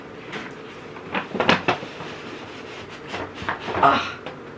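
Cardboard packaging of a new 16-inch M3 Pro MacBook Pro being opened, with a few scraping, rustling slides and soft thumps close up, bursting in clusters around the middle and near the end.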